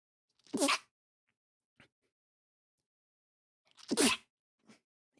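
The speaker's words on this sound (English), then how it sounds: "just a bit early morning sneezes" Two sharp sneezes about three seconds apart, each followed by a faint breath or small sound, otherwise quiet.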